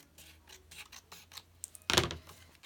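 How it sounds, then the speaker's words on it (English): Scissors cutting out paper graphics for a Christmas junk journal, a series of soft close snips and rustles, ending in one louder crisp cut. "I'm just going to cut a few out to see what I like."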